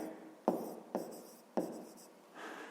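Pen or pencil writing numbers on paper for a fifth-grade math exercise: three distinct bursts of scratchy strokes, close and fairly quiet, followed by a softer rubbing sound at the end, with no talking.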